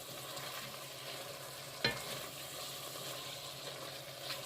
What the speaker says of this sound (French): Donc on mélange pour éviter que les épices brûlent.